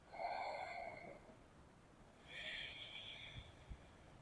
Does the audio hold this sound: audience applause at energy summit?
no